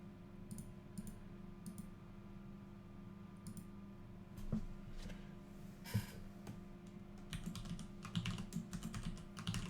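Fingers tapping a computer keyboard to sign in, a quiet, scattered run of soft key clicks in short bursts over a low steady room hum, growing a bit busier toward the end.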